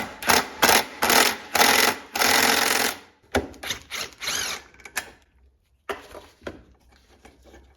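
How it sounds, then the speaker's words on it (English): Close, loud bursts of a power driver or drill backing out an Allen bolt from a Getrag 260 gearbox, a run of short whirring pulses followed by a long sustained spin, then sparser clicks and scrapes of handling. "I'm gonna take this Allen bolt out right here."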